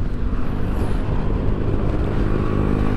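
Yamaha NMAX Turbo scooter engine pulls steadily in its third shift mode, a loud, continuous low drone heard close with no talk over it.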